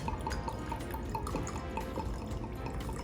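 A homemade cocktail topped off with a steady close pour, continuous liquid trickle and splashing with faint dripping throughout, no voices.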